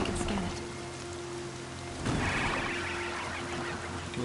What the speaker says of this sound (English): Like the rain just kicked up and the river just got heavy.